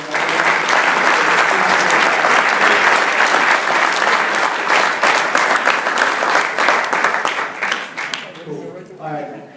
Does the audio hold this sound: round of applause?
yes